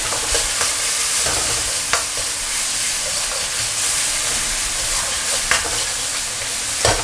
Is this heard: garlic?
yes